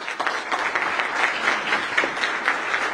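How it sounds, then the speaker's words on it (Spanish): Audience applause at an official honours ceremony in Costa Rica, a steady wash of many hands clapping at moderate loudness, continuous for the full stretch with no voices over it. "Un aplauso, por favor."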